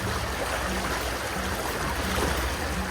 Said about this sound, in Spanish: estamos en una corriente muy fuerte